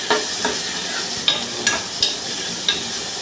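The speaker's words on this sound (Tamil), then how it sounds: "இஞ்சி பூண்டு பேஸ்ட் போட்டுக்கலாம். பச்சை வாசனை போக வரையிலும் வதக்கிக்கணும்." Ginger garlic paste sautéing in a pan for egg curry, a steady close sizzle with several sharp scrape-and-clink spatula strokes spaced through it, no voices.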